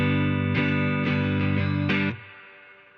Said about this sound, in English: It's a really nice, lush reverb.